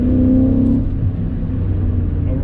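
BMW E39 M5 engine and exhaust: a short, loud rev rises at the start, then falls back to a deep, burbling near idle.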